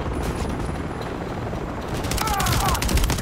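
Dense gunfire fills a Call of Duty Modern Warfare 3 battle: a steady roar of automatic weapons and blasts, loud and continuous, with a brief whining sound near the end.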